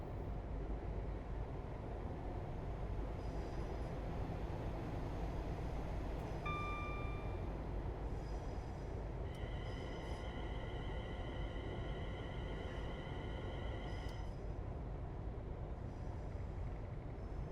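A Class 380 electric multiple unit running through Glasgow in Train Sim World 6, with a steady low rumble throughout and faint tonal whines and chimes rising in the cab sound.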